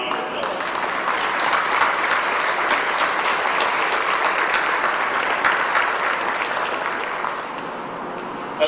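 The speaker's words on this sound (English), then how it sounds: "Please join me for a round of applause." Steady applause from a large audience at a change of command ceremony, sustained evenly for several seconds before tapering slightly at the end.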